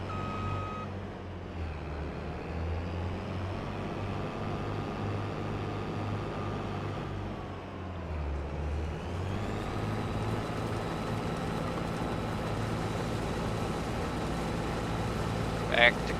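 A combine harvester driving through a soybean field in Farming Simulator 25, with a steady droning engine hum that dips and rises as it turns, and a brief beeping near the end.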